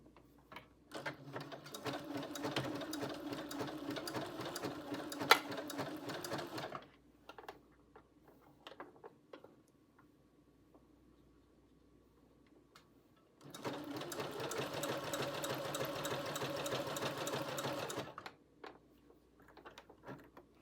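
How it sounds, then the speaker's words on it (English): A sewing machine runs a zigzag stitch along a fabric edge in two bursts of fast, even mechanical clatter, each several seconds long, separated by a quiet pause; it is close but fairly quiet overall. "now I'm going to switch my machine to my zigzag stitch to finish off my edge"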